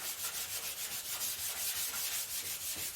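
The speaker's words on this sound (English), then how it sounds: "I'm going to go ahead and scuff this whole panel down." Sandpaper scuffs a 1963 Chevrolet Impala body panel in steady back-and-forth strokes, a close, continuous rasping hiss with a regular rhythm.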